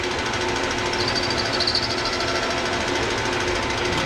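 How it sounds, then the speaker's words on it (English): Power drill boring holes into a rotten wooden base, a steady loud continuous grinding whir holding for the full stretch without pause. "I'll just drill holes in it"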